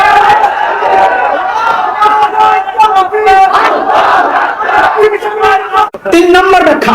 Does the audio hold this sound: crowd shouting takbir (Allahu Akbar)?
yes